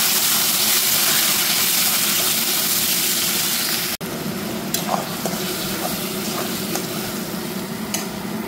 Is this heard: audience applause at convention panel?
no